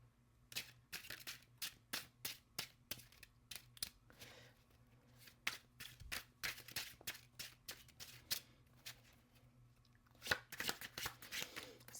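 Tarot cards are shuffled at close range in repeated quick riffling bursts, a rhythmic series of crisp snaps with short pauses between runs, over quiet room tone.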